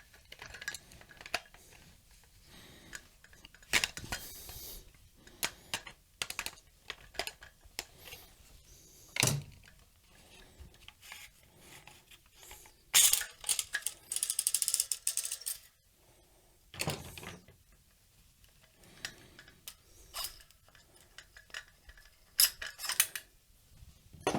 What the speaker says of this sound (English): which is unscrew the buffer tube.